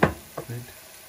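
Turmeric, coriander, cumin and chilli powders go into a pan with chopped tomatoes to roast: a sharp scrape of a spoon is followed by a second stroke and a short, soft sizzle, close by.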